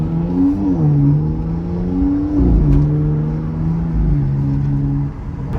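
A BMW X4M with the S58 engine cruises along, its steady engine hum shifting in pitch as revs rise and fall, with a smooth whirring drone close by and no talking.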